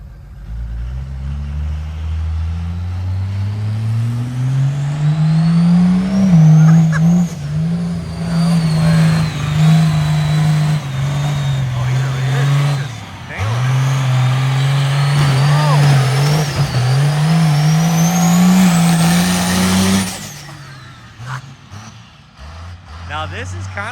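A Cummins diesel engine in a monster truck revs hard and loud, climbing in pitch, holding a high steady roar for about fourteen seconds with a brief dip midway, then dropping off to idle, while people talk under it.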